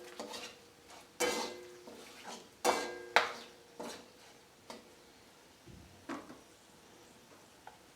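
Whole cloves, cracked cardamom pods and two cinnamon sticks hit hot oil in a pan, giving a faint sizzle under a series of sharp metallic stirring clinks and scrapes spaced out over several seconds.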